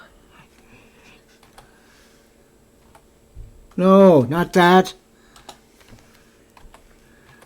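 Scattered light taps and clicks of typing on a computer keyboard, quiet and close, broken by a short burst of loud speech in the middle.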